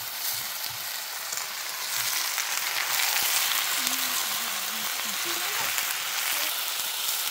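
Frog meat frying and being stirred in a pan, a steady loud sizzle throughout with faint scraping from the stirring.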